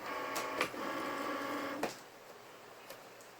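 A Cricut Maker cutting machine loads its cutting mat with a soft mechanical whir and a few light clicks, quiet and close, fading out near the end.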